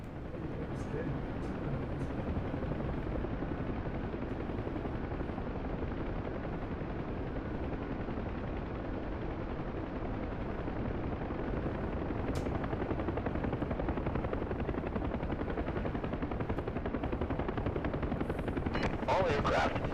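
Huey helicopters in a DCS World combat mission, a constant loud rotor and engine drone with bursts of gunfire over it and voices talking throughout.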